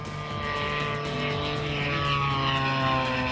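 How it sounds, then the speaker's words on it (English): A remote-controlled model airplane flies nearby, its propeller engine giving a steady, loud droning whine that shifts pitch slightly as it passes, with no talking. "Although these are remote-controlled aircraft,"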